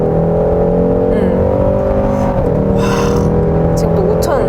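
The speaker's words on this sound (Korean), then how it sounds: "이게 액티브 엔진 사운드까지 키면서 이렇게 밟았을 때" A Sonata The Edge N Line 2.5 turbo engine, with active engine sound on, drones loud and steady as it accelerates, with a smooth layered hum rising slightly in pitch from inside the cabin.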